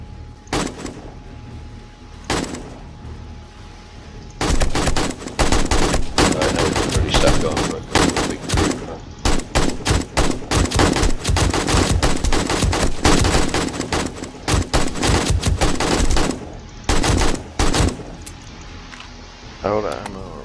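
Sustained automatic gunfire during horde night in 7 Days to Die, loud bursts of rapid shots with brief pauses between volleys, a voice talking intermittently over the firing.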